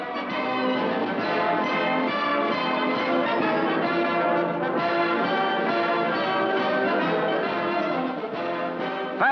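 Bells ring continuously and fairly loud on a float in the 1960 Orange Bowl parade, a steady dense peal with no talk over it.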